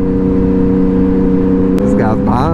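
A Ford Mustang GT drives close behind a Yamaha MT-09 motorcycle, its steady engine drone loud throughout before a brief rev rises near the end.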